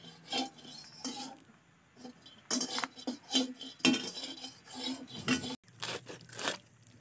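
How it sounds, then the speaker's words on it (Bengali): Cut fish pieces being placed onto a metal plate, repeated bursts of clinking, scraping and rubbing as pieces are moved and dropped, close and uneven in rhythm. "মাছগুলো তো কাটা হয়ে গেছে, নাও থালার মধ্যে তুলে দাও।"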